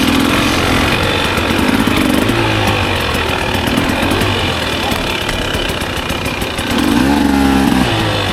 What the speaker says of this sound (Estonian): See on siuke võistlus, kus tuleb sikkel üles visata,